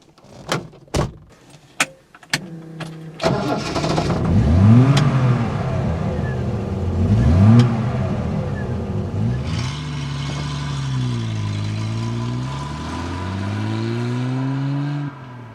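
A Triumph sports car engine starts up, then revs hard through two strong accelerating sweeps before settling into a steadier climbing drone, loud and close, with a few sharp clunks at the start.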